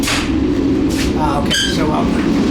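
Steady rumble inside a moving second-class Moroccan passenger train with open seating, a loud continuous rolling drone filling the carriage, with brief voices and a squeal over it.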